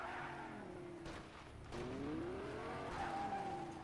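In Fortnite, a video-game car revs and slides with rising and falling tire squeals over a steady engine hum, fairly close, with no talking.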